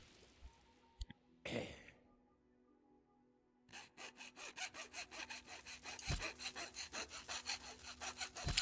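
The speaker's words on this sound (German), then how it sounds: "Hör auf zu sägen hier hinten." Rhythmic back-and-forth wood sawing in the fantasy role-playing game Might and Magic X Legacy, a brief burst early, then a steady run of close, loud strokes building toward the end.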